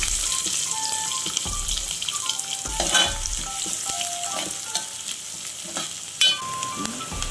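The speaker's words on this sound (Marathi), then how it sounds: "आता कांदा घालते फोडणीला" Chopped onion added to hot oil tempered with mustard seeds and cumin for katachi amti, a loud continuous sizzle with crackling pops and a few spoon scrapes, no speech.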